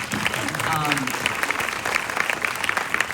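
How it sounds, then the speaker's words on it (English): Audience at a live film Q&A breaks into loud, dense applause that fills the room and carries on steadily throughout, with a brief voice audible near the start. "that needs some applause"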